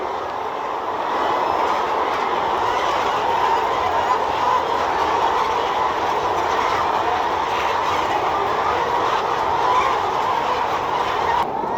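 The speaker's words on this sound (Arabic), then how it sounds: "ماسك كوريك اهوت وبننزل بيه المعلف عشان الفراخ تبدا اللي هي تاكل" A hand-cranked winch lowering feeders in a poultry house, giving a steady clattering, ratcheting rumble throughout, with chickens faintly audible in the background.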